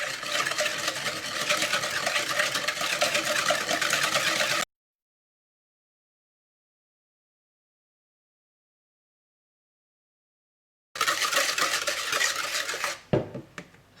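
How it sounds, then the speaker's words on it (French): Egg cream mixture stirred in a Seb Multi Délices yogurt maker bowl, a steady scraping and rattling churn that cuts to silence for several seconds, then resumes briefly and ends with a few clunks. "je commence à tourner pour que ce soit bien mélangé, pour que ça blanchisse"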